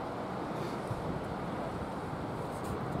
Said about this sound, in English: It's a windy, windy day.